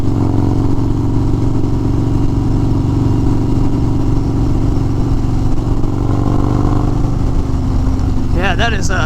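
2021 Harley-Davidson Street Bob 114 being ridden, a deep rumbling V-twin drone with heavy wind buffeting, steady and close, ending with a short burst of rising revs.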